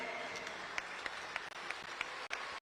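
An audience at a political party meeting applauds the Kisii team. Faint, steady clapping from a crowd sounds distant and muffled throughout, with a few sharper claps standing out.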